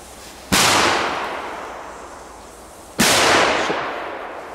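Belgian fireworks going off outdoors in two loud, sharp bangs, each with a long fading roar of crackle and hiss afterward, spaced about two and a half seconds apart, close to the listener.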